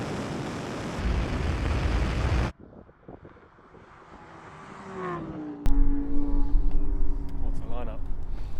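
Lamborghini Huracan drag racing a McLaren Artura and a Porsche 911 Turbo: loud in-car engine roar and wind rush that cut out abruptly, then a quieter rising engine whine that swells into a loud sustained drone, with people talking over it.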